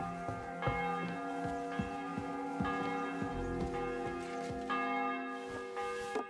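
A church bell tolls in a medieval town in the game Kingdom Come: Deliverance II, repeated resonant strikes with long ringing overtones, close and steady, no voices.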